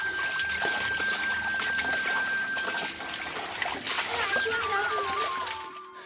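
Household water runs and splashes continuously at close range as vegetables are tidied and clothes soaked for washing, with faint birdsong and a few tonal chirps over the steady rush.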